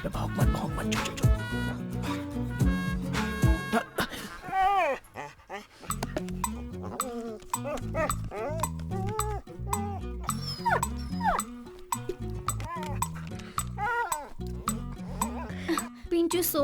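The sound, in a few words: dog barking and whimpering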